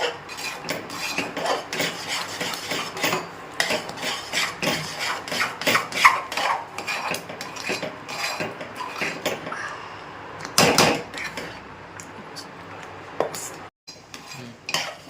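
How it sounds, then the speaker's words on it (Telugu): Ragi flour is stirred continuously in a cooking pot, with repeated close scraping and clinking of a utensil against the pot in an uneven rhythm, and a few brief sharper knocks. "రాగి పిండి కలుపుతూనే ఉండాలి అడుగంటకుండా"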